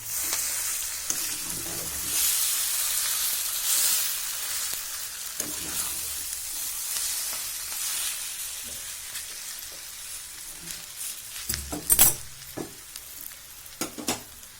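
Zunka, a Khandeshi gram-flour dish made with chivlichi bhaji greens, fries in oil in a pan with a steady close sizzle, followed by a few scraping stirs near the end and no talking.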